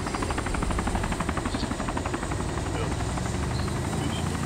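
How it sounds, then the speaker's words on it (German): Two helicopters fly overhead in the game DayZ, producing a loud, continuous rhythmic rotor chop with a steady thudding pulse that fills the whole stretch. "Hier fliegen zwei Helikopter und der Bunker ist verschwunden."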